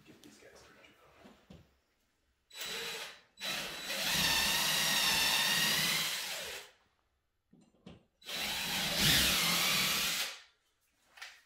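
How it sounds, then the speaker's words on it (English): A power drill whirs in two separate bursts while pre-drilling holes, each a few seconds long and close by, with short quiet gaps and faint handling noises between. "Get these guys pre-drilled."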